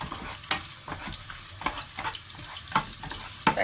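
Fish and peas stir-fry in a hot pan, a loud continuous sizzle broken by regular scraping strokes of a spatula, close up.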